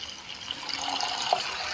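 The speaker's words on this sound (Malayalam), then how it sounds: "ഇനി നമുക്കതിലേക്ക് ചൂടുവെള്ളം ചേർക്കാം." Hot water pours steadily into a pan of bitter gourd curry cooking with coconut paste, a close, brief liquid rush with a few splashy drips toward the end.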